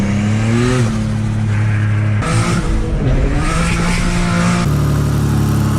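A turbocharged Infiniti G35 accelerates hard on a wet road in the rain, its engine loud and close. The revs climb in surges, the tone drops sharply at each gear change, and tire noise runs underneath throughout.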